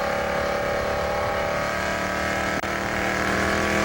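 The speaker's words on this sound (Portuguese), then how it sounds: "esse barulho que você está ouvindo aí é o ronco do motor do safety car ali" Formula 1 safety car at the Australian Grand Prix, its engine roaring steadily and loud throughout, a continuous dense drone with a brief dip partway through.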